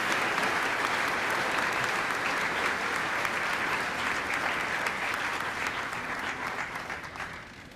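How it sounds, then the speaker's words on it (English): A college commencement audience gives a sustained round of applause for the choir, a dense, even roar of many hands that holds steady and begins to fade near the end. "would you please just give them one more round of applause"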